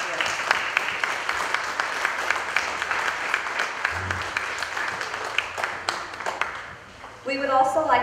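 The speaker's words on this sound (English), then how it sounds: "Please give them a round of applause for all their contributions this past year." Applause from an audience at a Swede Day queen coronation, a dense, sustained wash of clapping from many people that fades out before a voice begins speaking.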